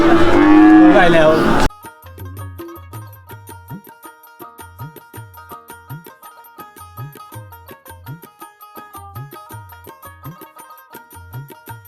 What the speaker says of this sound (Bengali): মাশাআল্লাহ দর্শক, খুব সুন্দর একটা ষাঁড় গরু এখানটায় আমরা দেখতেছি।